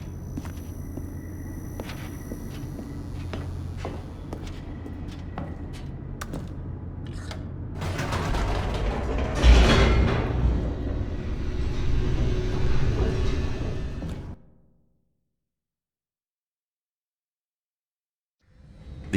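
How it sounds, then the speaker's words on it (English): An elevator descends in The Stanley Parable, giving a steady mechanical rumble with clicks and rattles that swells into a louder rushing roar, then cuts off abruptly into silence. "The elevator raced downward, plummeting towards an unknown fate."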